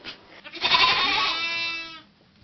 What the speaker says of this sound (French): Les moutons et leurs petits, les agneaux, nous sont bien utiles.